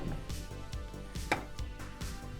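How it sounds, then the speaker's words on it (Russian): Cheese rubbed against a grater in rhythmic strokes, about eight close, rasping scrapes at a steady pace with a thudding knock on each pass. "Поэтому сыр я натираю на одну и на вторую партию сразу же."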